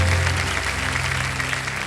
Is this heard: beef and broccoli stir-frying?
no